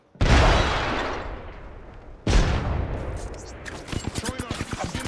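Two heavy, booming frag grenade blasts in Apex Legends, each a sharp loud crack with a long rolling decay, followed by a quick run of rapid gunfire.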